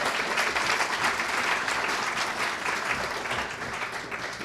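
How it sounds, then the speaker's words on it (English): A chamber of commerce annual meeting audience applauds its president, a dense, steady wash of many hands clapping close and loud for the whole stretch, without speech. "a round of applause for our president, who's done a phenomenal job, Rick Parker"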